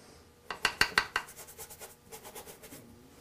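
Brush or palette knife mixing lemon yellow paint on a palette, a short run of close, sharp tapping scrapes followed by softer rhythmic swishing strokes, with no talk.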